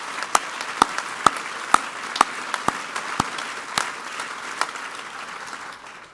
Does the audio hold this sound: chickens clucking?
no